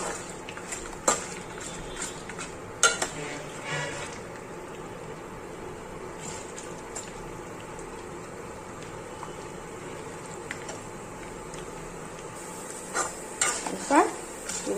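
Chutney ingredients of onion, curry leaves, coconut and lentils are stirred in oil in a pan, with soft sizzling and intermittent spoon scrapes and clinks against the metal.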